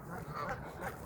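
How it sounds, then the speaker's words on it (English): Water birds, ducks among geese, quacking in a brief, faint burst of nasal calls, with the sound of a low outdoor background behind them. "asinine quacking."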